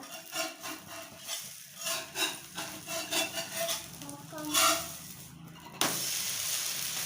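A metal spatula scrapes and taps against a pan while lifting and flipping a bottle gourd dosa, giving a series of light clinks and scrapes, followed by a sudden steady sizzle.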